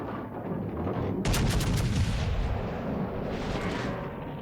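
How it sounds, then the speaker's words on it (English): Battleship shells from the California ricocheting in World of Warships Legends, a loud rumbling boom swelling at about one second and a second surge near three and a half seconds, over steady battle roar. "Beautiful ricochet from the California shells."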